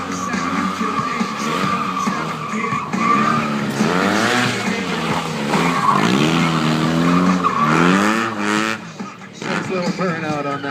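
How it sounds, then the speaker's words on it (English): A stunt rider doing a burnout on a BMW motorcycle, with loud screeching rear tyre squeal and wavering, rising and falling engine revs, and people talking over it. "Nice little burnout on that thing."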